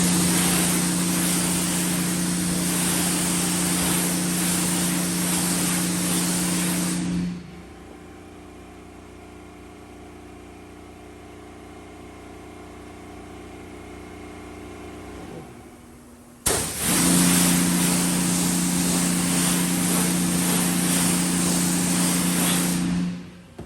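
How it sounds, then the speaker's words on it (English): A pressure washer rinses a car before washing: a loud, steady high-pressure spray for about seven seconds, then a quieter mechanical hum, then the forceful spray starts again and runs to the end. "I'm gonna grab the pressure washer"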